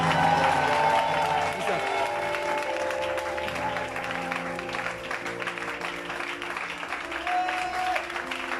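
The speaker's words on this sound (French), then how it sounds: "On se tient debout, on acclame Jésus là pour ça" A church congregation stands and applauds during a service, sustained clapping and crowd noise filling the room, with a voice and music carrying over it throughout.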